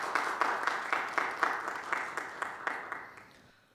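A church congregation at a Korean service claps for newly appointed leaders, a rhythmic round of applause with regular pulses that gradually thins and fades out at the end.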